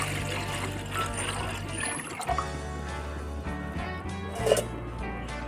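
Water poured over soaking rice for a veg dum biryani, a steady trickling pour running through the clip with a few brief clinks of utensils, close up and moderately loud, no talking.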